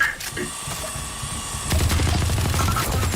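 Gunfire and ability blasts in a Valorant esports match, rattling shots and booming impacts that swell louder halfway through, dense and continuous with a voice talking over them.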